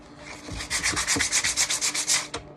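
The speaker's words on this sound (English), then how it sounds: "Now I'm gonna take some" Sandpaper rubbed by hand across a wooden car A-pillar tweeter pod, a steady run of about a dozen close, rasping back-and-forth strokes with no talking.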